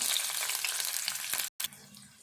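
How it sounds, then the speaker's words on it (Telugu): Chopped onion and curry leaves frying in hot tempering oil for a bitter gourd tamarind curry, a loud, dense sizzle with stirring scrapes that cuts out abruptly near the end before resuming. "ఇందులో తాలింపు ఏమయ్య, ఉల్లిపాయ, కరివేపాకు వేస్తా."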